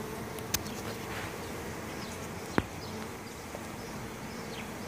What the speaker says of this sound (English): they're all buzzing me pretty good